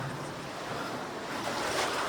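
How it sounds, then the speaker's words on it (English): Seawater surges into a rocky coastal cave in Tunisia. It makes a steady, rushing wash that swells toward the end, mixed with some wind noise on the microphone and no talking. "Do you see the water coming in?"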